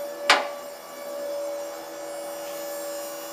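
Hydraulic pump with a large metal reservoir on a portable car lift, running as a steady mechanical hum with a faint tonal whine, opened by one sharp click.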